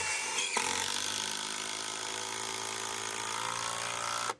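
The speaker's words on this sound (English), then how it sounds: "So we're just pre-drilling them first with a 1/4 inch bit. And then we take our big screw here." A big screw driven by a power driver into a pre-drilled wooden roof truss under a porch roof, one continuous loud grinding whine for about four seconds that cuts off sharply at the end, with no talk.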